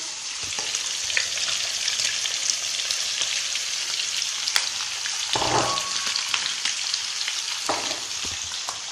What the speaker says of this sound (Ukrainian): І зараз висипаємо сюди морковку